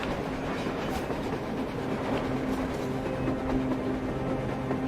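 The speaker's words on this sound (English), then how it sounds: "A damn train on the surface!" A train in Metro Exodus gives a steady, loud rumble with a rattling clatter of wheels on rails and a faint tonal whine, at a constant moderate distance.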